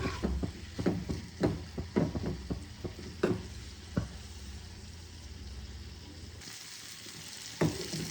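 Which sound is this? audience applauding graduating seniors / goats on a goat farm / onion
onion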